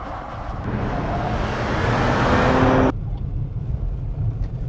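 A 2014 Porsche Macan Turbo on the Willow Springs racetrack in California, its engine holding a loud, steady drone that swells slightly before cutting off abruptly to a quieter rumble near the end.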